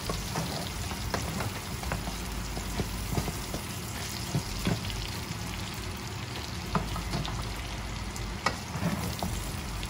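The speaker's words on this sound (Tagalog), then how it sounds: "Haluin na natin saglit." Honey garlic spare ribs frying in a pan while being stirred: a dense, steady sizzle close up, broken by scattered sharper crackles and scrapes, with no voices.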